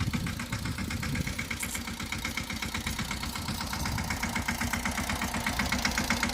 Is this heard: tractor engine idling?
yes